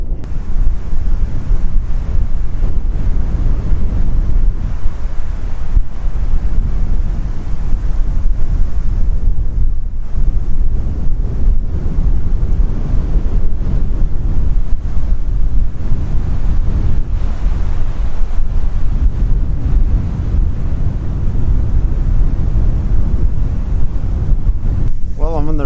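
Strong, steady wind roars and buffets the microphone on a cycle tour across flat, dry outback country in eastern Australia between Walgett and Coonamble, a continuous loud rumble with no speech.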